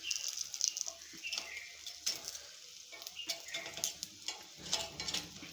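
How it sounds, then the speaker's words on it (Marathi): Potato batata vadas shallow-fried in a pan with only half a spoon of oil are turned one by one with a spoon, giving soft scraping taps and clicks over a steady gentle sizzle, close and moderately quiet. "अशा पद्धतीने सर्व पलटून घेते, चमच्याने असं हे करायचं।"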